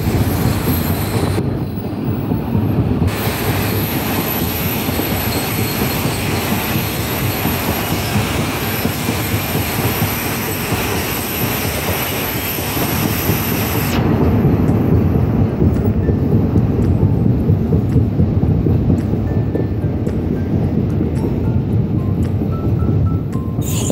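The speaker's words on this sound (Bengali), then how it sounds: "মালদা থেকে ট্রেনটি ছাড়লো" The Kolkata Express runs from Malda toward the Farakka bridge, heard from on board as a steady loud rumble of wheels and carriages with squealing rails, the tone shifting partway through as the surroundings change.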